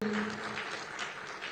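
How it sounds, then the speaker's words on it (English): A conference audience applauds a speaker on stage, a dense wash of clapping at steady loudness throughout, with a brief tonal hum at the start. "let's put a louder clap for Jim O'Neill."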